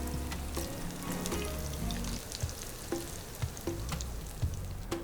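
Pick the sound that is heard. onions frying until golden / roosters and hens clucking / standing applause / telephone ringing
onions frying until golden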